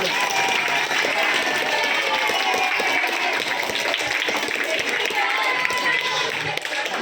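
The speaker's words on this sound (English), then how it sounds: "Give a good round of applause for all of you." School students in a seminar audience giving a round of applause, loud, dense and continuous clapping from a large crowd for the full stretch, with scattered voices mixed in.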